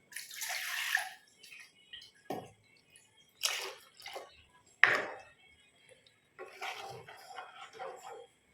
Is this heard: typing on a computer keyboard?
no